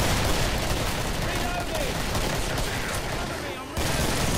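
Gunfire in the co-op video game Killing Floor, a continuous dense clatter of rapid shots and blasts layered over noisy game action, with a brief dip near the end.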